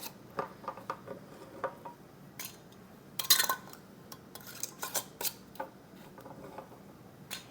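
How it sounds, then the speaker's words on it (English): Metal lids and screw rings go onto warm glass canning jars in a home kitchen, making a string of close, sharp clinks and light taps with brief twisting scrapes, irregular and separated by quiet gaps. "you're going to put your lids and rings on"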